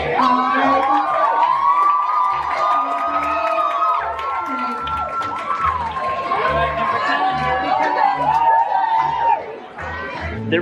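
Theme park audience at the original Country Bear Jamboree show at Magic Kingdom, cheering, whooping and chattering as the show ends, with voices and a steady thumping beat mixed in.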